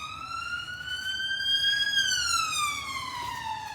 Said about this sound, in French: on laisse passer l'ambulance.